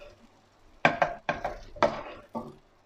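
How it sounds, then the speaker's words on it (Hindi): Spoon or spatula scraping and knocking against a pan while butter is mixed into sugar for caramel sauce, several distinct close strokes in an uneven rhythm, fairly quiet. "बटर को अच्छी तरह से पहले मिक्स करेंगे"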